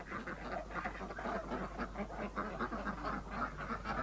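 Ducks quack in a permaculture garden, a dense, continuous chorus of many birds at moderate distance with steady overlapping calls and no pauses.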